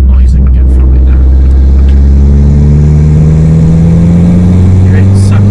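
Car engine fitted with a Forge induction kit revs up loud and close, its pitch climbing steadily while the intake note grows over several seconds.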